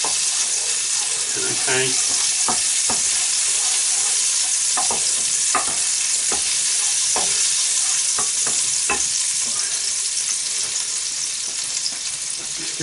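Breaded cutlets fry in oil in a pan, a loud, continuous sizzle with occasional sharp pops and clinks throughout; a voice speaks briefly.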